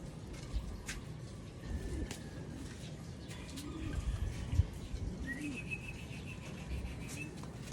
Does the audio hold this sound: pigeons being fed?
yes